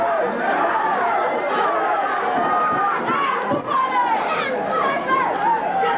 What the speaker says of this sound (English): People are shouting he pulled the hair.